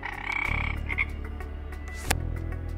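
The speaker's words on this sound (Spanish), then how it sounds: "Rana flecha dorada." A golden poison frog gives repeated croaks, a close, steady pulsing call with a brief sharp click partway through.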